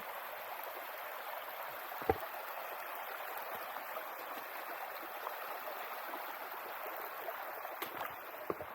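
A creek flowing beside a rugged trail at Clifty Falls in Indiana, a steady broadband rush of water running evenly throughout, with a couple of faint knocks.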